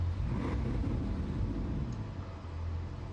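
A crashed car with deployed airbags idles with a steady, close engine rumble, running alone without talk.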